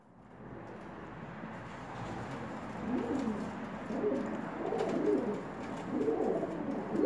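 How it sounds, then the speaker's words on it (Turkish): Bird calls repeat in short cooing phrases against a quiet hiss, growing louder toward the end, with no talking. "Yanına bir kuş saldığımda nasıl öttüğünü."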